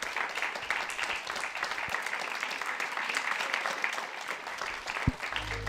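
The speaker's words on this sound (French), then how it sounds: "Vous pouvez vous applaudir." An audience applauds at the close of a French ergonomics quiz show event, a dense, even wash of clapping at moderate distance that holds steady throughout, with a brief thump near the end.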